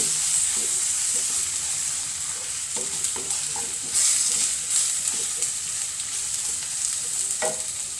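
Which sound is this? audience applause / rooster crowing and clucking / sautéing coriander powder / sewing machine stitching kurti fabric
sautéing coriander powder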